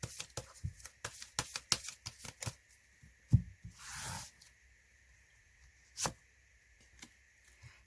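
Tarot cards being shuffled and drawn during a Korean reunion-themed reading, with a quick run of crisp riffling flicks, then a few isolated card snaps and a soft slide, close and alone.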